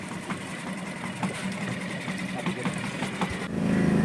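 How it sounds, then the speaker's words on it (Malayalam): A small passenger boat's engine idles and chugs at a jetty on the Kollam backwaters, bound for Sambranikodi island, a steady mid-level drone with faint knocks that swells louder near the end. "ഈ ചേട്ടനാണ് ബോട്ട് ഓടിക്കുന്നത് ചെറിയ ബോട്ടാണ്"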